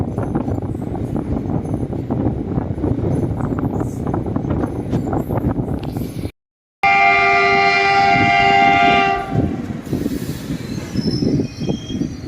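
A Salasar Express passenger train departing through the Rajasthan desert rolls and clatters steadily, then after a brief gap a loud horn sounds for a few seconds before the rumbling movement continues.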